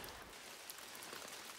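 Steady rain patters across a hiking trail on Sutton Round Top, a continuous, even hiss of drops with no voices over it.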